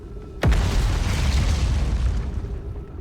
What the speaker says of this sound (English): I don't like the explosions.